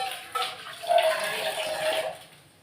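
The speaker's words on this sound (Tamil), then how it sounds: "ஓகே, கொஞ்சம் ஊற்றிக்கலாம் தண்ணி," Water is poured into a pot of rice in a home kitchen, a short trickling splash rising and fading over a couple of seconds, close and fairly quiet.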